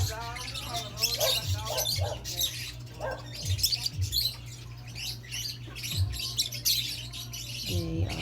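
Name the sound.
lovebirds and parakeets chirping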